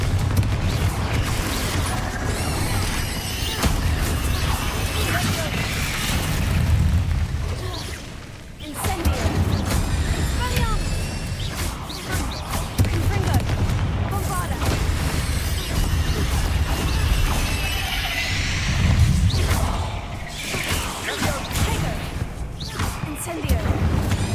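Repeated Confringo blasting-spell explosions in Hogwarts Legacy, booming bursts layered over continuous game music and effects for the whole stretch, with a brief dip near the middle before the loud clamor resumes.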